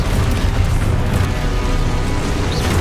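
A Confringo blasting spell explodes in the Hogwarts Legacy video game, a dense, continuous booming rumble with crackling bursts that stays loud and steady throughout.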